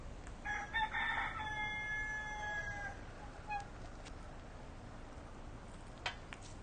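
A rooster crows on a Key West street, one long, loud, ringing cock-a-doodle-doo near the start that fades into quiet outdoor background, with a brief knock later on.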